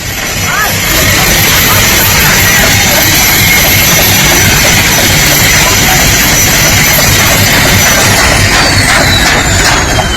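Helicopter rotors keep spinning after an emergency landing on a highway, a loud, steady broadband roar with a rapid chopping pulse, while voices talk faintly underneath.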